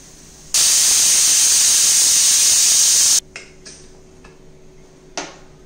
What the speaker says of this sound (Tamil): ஒரு விசில் வர வரைக்கும் ப்ரெஷர் குக் பண்ணுங்க.